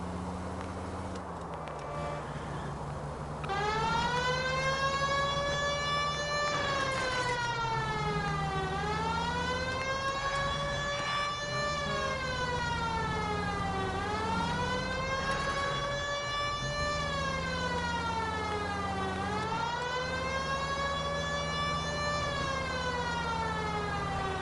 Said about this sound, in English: Put the siren on!